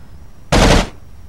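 A single short burst from an M249 machine gun in the video game America's Army, fired from an unsupported position: about a third of a second of loud rapid rounds, then quiet.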